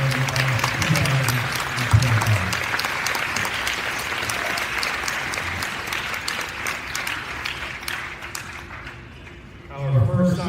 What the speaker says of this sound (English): Please join me in giving a big round of applause to our 15 signees of the SPIRE Academy